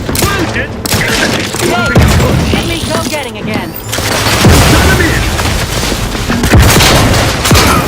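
Explosions and rapid gunfire fill a combat scene in the video game Outer Worlds 2, dense bursts of shots and booming blasts at high volume, with shouted voices and someone talking over the din.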